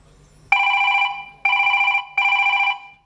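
A telephone rings in three loud, even electronic bursts with short pauses between them, close and clear in a quiet room.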